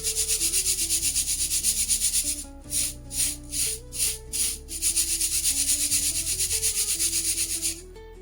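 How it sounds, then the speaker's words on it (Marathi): Poha, or flattened rice, is sifted in a sieve to clean it. It makes a continuous dry, rhythmic hiss and rustle with a brief stretch of separate shakes in the middle, close and steady. "चला तर मी आता हे चाळून स्वच्छ करून घेते."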